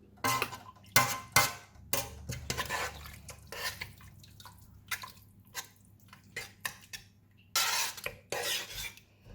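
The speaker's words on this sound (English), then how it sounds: "So you're going to take the rice and put in here." Cooked rice is spooned into a metal pot for chicken and scallop porridge, irregular scraping clinks and soft wet plops in scattered bursts with quiet gaps, close by.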